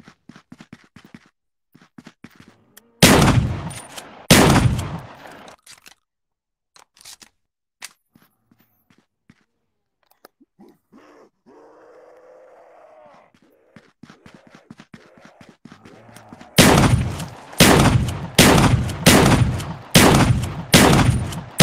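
Gunfire in the Call of Duty Zombies video game: two sharp shots early, a quiet stretch with faint clicks, then a rapid run of five or six loud shots near the end.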